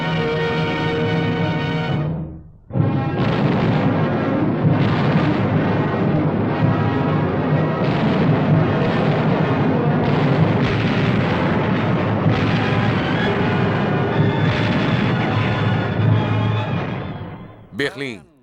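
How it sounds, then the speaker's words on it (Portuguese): Wartime artillery fire around Berlin near the war's end: a dense, continuous roar of cannon booms and explosions, loud and sustained, with a brief drop early before the barrage resumes. "O dia todo e a noite toda os canhões estrondam."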